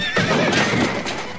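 A cartoon horse in a Wild West saloon setting lets out a loud, close whinny with a fluttering, drawn-out neigh lasting about a second, with faint hoof clatter and no talk over it.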